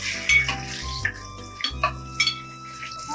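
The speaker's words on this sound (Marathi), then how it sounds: "अंडी सोडते याच्यात. परतून घेते का ते?" Eggs frying and being stirred in a pan for a dhaba-style egg curry: sizzling hiss with intermittent scraping and clinking stirs, close by, with a faint low hum beneath.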